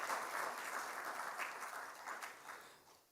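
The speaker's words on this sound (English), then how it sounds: "I think it needs an applause, please." An audience at an international arbitration conference applauds in a dense, even burst of clapping that gradually tapers off.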